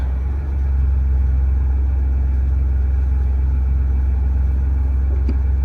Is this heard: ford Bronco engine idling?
yes